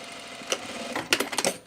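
A sewing machine straightens a seam on a blazer, giving a short run of quick clicking stitches that builds in the second half and fades at the end.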